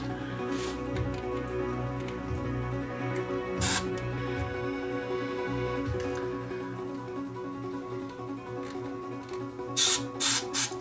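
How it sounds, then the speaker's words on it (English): Aerosol contact cleaner sprayed into a switch on a Sony TA-F700ES integrated amplifier, heard as a few short hissing bursts, one early, one in the middle and a close double burst near the end, over a low steady electrical hum. "So I've got my contact cleaner. We'll get it into this switch here, give it a shot, and then activate the switch."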